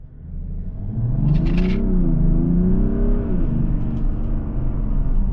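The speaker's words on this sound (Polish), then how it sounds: "po prostu wciskamy gaz na maksa i to wszystko" A Mazda CX-60 with a 3.3 inline-six diesel and rear-wheel drive accelerates at full throttle, a deep, loud engine drone rising in pitch and holding, with a short gear-change dip and a brief click partway through.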